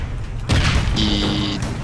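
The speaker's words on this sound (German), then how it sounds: "Oh, ich bin explodiert." A loud in-game explosion in APB Reloaded hits suddenly and rumbles on under a steady hum and a brief tonal whine, heavy low booming that fills the short clip.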